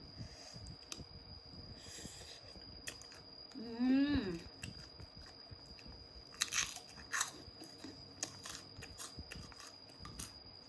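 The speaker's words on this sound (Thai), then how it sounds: "มากินเขียบหมูกับตำบักหุ่งกันเนาะ" Crunchy pork cracklings being eaten alongside papaya salad: a few crisp bites and chewing crunches close to the mic, with a brief voiced sound and scattered clicks in a quiet room.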